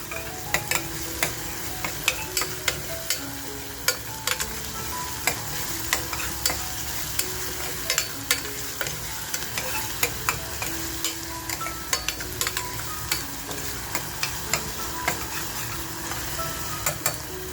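Onions frying in a pan with a pinch of salt are stirred in a regular, brisk rhythm, each spatula stroke clicking against the pan over a continuous sizzle, close and uninterrupted by talk for about eighteen seconds.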